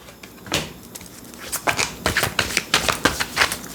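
A deck of oracle cards is shuffled by hand close up, the riffles coming as a run of crisp, rapid flutters and snaps that quicken and grow steadier toward the end.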